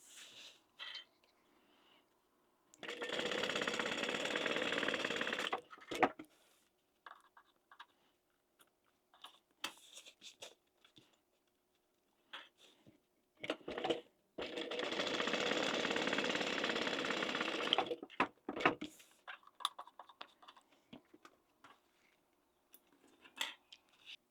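A sewing machine stitches a fabric wallet in two steady bursts of a few seconds each, a close, even whir, with quieter handling and rustling of the fabric before, between and after.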